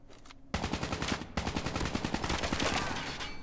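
Rapid automatic gunfire from a Call of Duty Mobile ranked multiplayer match, loud and continuous, with dense bursts of shots filling the whole clip after a brief quieter start.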